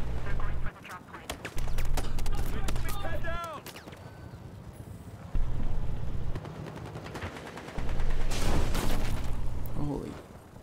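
Player gunfire in Battlefield Hardline: several long automatic bursts of rapid shots, loud and close, separated by brief pauses, with in-game voice chatter and other battle noise between them.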